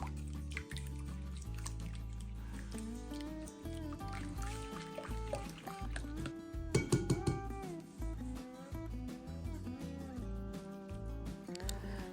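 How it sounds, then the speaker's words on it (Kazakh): Grated zucchini is squeezed by hand to press out its water, producing wet squishing and close dripping and trickling into a bowl, with a melodic music track playing underneath. "Суын сығып тастауымыз керек."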